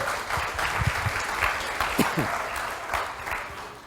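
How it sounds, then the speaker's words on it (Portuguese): A church congregation applauds during a Portuguese-language sermon, producing a steady wash of clapping that lasts the whole time, moderately loud and somewhat distant, with a few scattered voices under it. "Pode aplaudir, amado."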